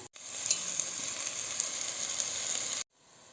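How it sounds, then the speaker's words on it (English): Steady, bright sizzling of chicken frying in a hot pan, continuous and close, cutting off abruptly near the end. "Put the chicken back to the pan."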